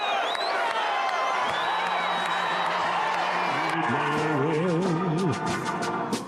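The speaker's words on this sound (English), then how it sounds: "All to thunderous applause." Large crowd at a Washington, D.C. event for Trump cheering and applauding, a dense roar with whoops throughout and a rising wavering tone near the end.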